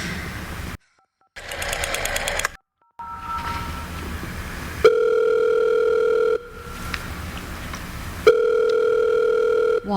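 An old-style telephone rings within a radio drama, sounding in long steady electronic bursts broken by short gaps and a brief click, with no voices over it.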